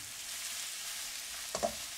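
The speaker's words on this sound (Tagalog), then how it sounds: "So, pagka i-stir fry natin na ganito," Shiitake mushrooms stir-frying in a pan with bok choy and garlic give a steady close sizzle, with a couple of quick spatula clinks near the end and no talking.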